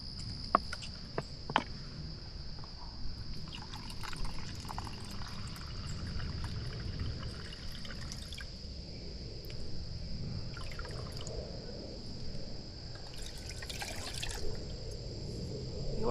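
Water steadily poured into a cup for tea outdoors on an overnight camping trip, a continuous soft trickle and gurgle with a high insect-like whine in the background.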